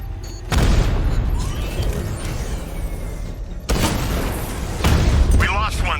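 Deep booming explosions from bombs in a Batman video game hit hard twice, each a heavy low blast that decays into rumbling debris, with game dialogue and mechanical clatter around them.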